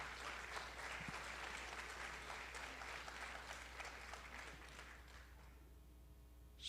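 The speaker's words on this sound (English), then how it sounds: "Big round of applause to Shriya." An audience applauds after Shriya's arangetram, a classical dance debut, with a sustained wash of many hands clapping. It sounds fairly distant and soft, holding even for several seconds before tapering slightly at the end.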